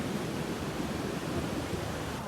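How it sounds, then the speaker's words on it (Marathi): Rough, churning sea at Kudle Beach makes a continuous broadband wash of surf, steady and moderately faint, with no distinct breaks between waves. "आता तर समुद्र एकदम खवळलेला आहे"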